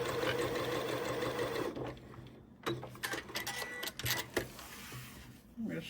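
A sewing machine stitches a quilt seam in close, rapid mechanical chatter, pausing and restarting in short bursts.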